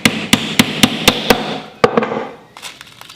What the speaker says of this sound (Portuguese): Importante ter um martelinho pequeno como esse para facilitar o processo de quando for a pregar